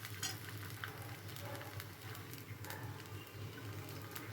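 Idli batter cooks in a frying pan over a very low gas flame, giving a faint steady sizzle and crackle with light scattered pops, close and alone.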